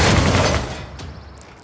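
A modern tank firing on a target in Civilization VI, a loud boom-like blast that trails off over a second and a half.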